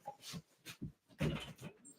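A dog outdoors whimpering and whining in a string of short, soft, high-pitched cries with brief pauses between them, faint and slightly distant.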